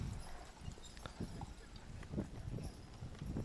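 Horses' hooves clip-clop at a steady walking pace near a historic building opened in 1887, moderately close with a faint outdoor background.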